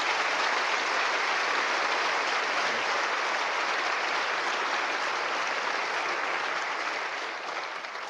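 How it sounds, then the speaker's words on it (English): A large audience at a Ruby programming conference gives a round of applause: a dense, even wash of many hands clapping, sustained for eight seconds and tapering slightly at the end. "So a special thanks for Simo, maybe a round of applause as well."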